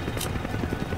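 Helicopter in the video game Resident Evil 5, a loud, steady rotor drone filling the short moment without speech.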